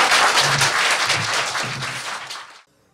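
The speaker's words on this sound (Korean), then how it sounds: "박수 부탁드립니다." A studio audience at a Korean talk show claps in a dense burst of applause that lasts about two and a half seconds and then stops abruptly.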